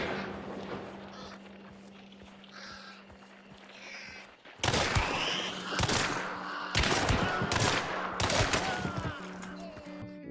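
Dolch pistol fire in the game Hunt: Showdown: after a quiet stretch with a low hum, a loud series of sharp, booming shots arrives in quick, uneven bursts.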